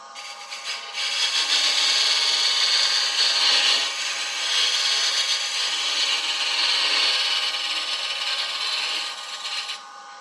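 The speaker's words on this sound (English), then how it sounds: "This is a double end scraper." A double end scraper cutting wood on a lathe while turning a lidded box, giving a steady, loud, close rasping hiss that runs almost unbroken for about nine seconds.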